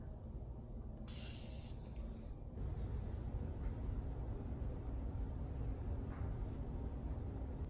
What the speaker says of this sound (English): We're gonna spray it with a little setting spray first to just give it a little bit more shimmer.